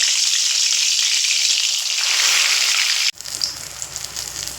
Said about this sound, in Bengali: এবার এখানে আমি যে সিম আর বেগুন লবণ হলুদ মাখিয়ে রেখেছি বেগুনগুলো ভেজে নেব